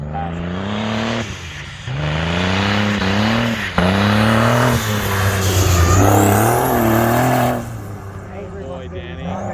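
Race cars at a Gambler 500 dirt track race, including a Ford Crown Victoria, rev and roar in loud surging waves as they speed past, engine pitch rising and falling repeatedly while a voice talks over them.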